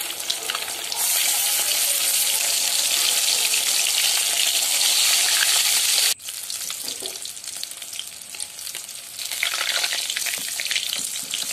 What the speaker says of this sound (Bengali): তেল গরম করে তেলের মধ্যে মাছের পিসগুলো দিয়ে একে একে ভেজে নেব